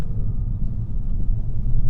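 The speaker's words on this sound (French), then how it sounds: "on entend quand même bien la motorisation, donc il y a ce côté vibration, moteur qui est intéressant" Audi RSQ3 2020 engine heard from inside the cabin while driving, a loud, steady low rumble with vibration and no speech.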